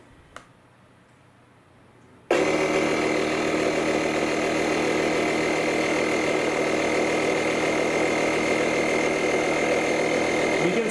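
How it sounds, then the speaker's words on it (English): A LokiThor JA301 jump starter with built-in air inflator pump switches on after a quiet click and runs as a steady, loud mechanical buzz with a constant hum, close by. "I can press and hold the pump button."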